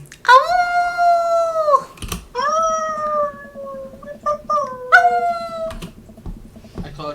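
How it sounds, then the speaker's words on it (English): Dogs in the video game Dream Daddy let out several long, loud, wavering howls one after another, and a person briefly exclaims between them. "Distant howls echo through from someplace."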